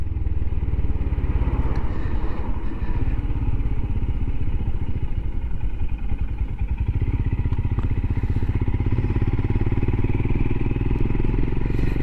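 A Royal Enfield Himalayan motorcycle cruising along, its single-cylinder engine thumping in a steady loud drone with wind rush, close and continuous.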